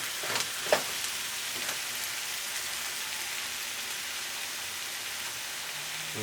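Tomatoes, tomato paste and onions cook down in a pan for a lentil curry, giving a soft, steady sizzle with a few brief clicks of utensil contact near the start, quiet and without talk.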